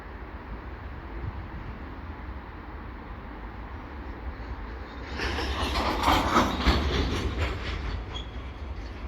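A westbound CN freight train on holding tracks, with a steady low rumble of cars throughout that swells louder and brighter in the second half as the train moves closer, with faint rail noise.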